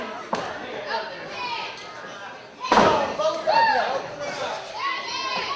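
Punches thud against a wrestler's face in a professional wrestling match, with a sharp slam near the start and a heavier impact midway, under a loud crowd and a commentator talking.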